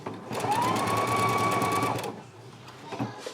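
A Husqvarna Viking Epic 980Q sewing machine stitches a buttonhole, its motor whirring steadily and close for about two seconds, rising in pitch as it speeds up, then stopping and leaving quiet room noise.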